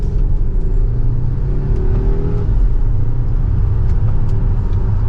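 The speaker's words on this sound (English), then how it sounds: "we'll pop it back into that B mode and put it into second gear and give it some gas." 2023 Volvo XC90 Recharge hybrid SUV accelerating in B mode and second gear, a steady loud low rumble of engine and road noise from inside the cabin, with a faint rising hum and no talk.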